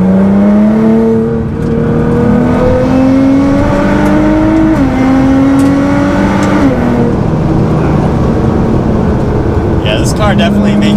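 A Nissan GT-R with an upgraded front-mount intercooler and stage three setup accelerates hard in fifth gear on a race track, its loud engine note climbing steadily with a brief shift dip, close and continuous inside the cabin.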